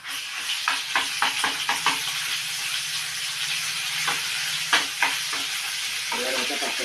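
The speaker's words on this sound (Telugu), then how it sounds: "అల్లమైతే పచ్చివాసన వేయించాలి" Fresh ginger frying in hot oil while being stirred in a pan for a Telugu stuffed eggplant curry, a steady sizzle with repeated scraping stir strokes, close and clear, with no talk.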